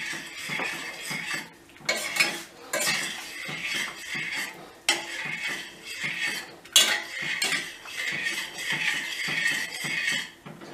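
A spoon scrapes and clinks against a metal pot while sugar is stirred into a pumpkin and milk dessert, steady rhythmic stirring strokes with brief pauses, close and clear with no talking.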